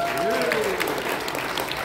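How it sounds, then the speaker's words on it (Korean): Audience claps at a political talk session, steady applause throughout, with a voice briefly sounding over it near the start. "박수 부탁드리겠습니다"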